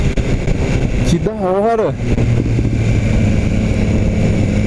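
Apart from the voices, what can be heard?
BMW S1000 R motorcycle exhaust popping, original exhaust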